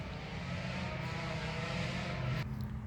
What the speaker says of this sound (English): these motorcycles were really loud